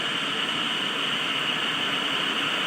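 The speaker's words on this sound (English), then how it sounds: "It's the air conditioner. It's so loud." Loud air conditioner running with a steady, even broadband hiss and whoosh, constant level throughout with no talk.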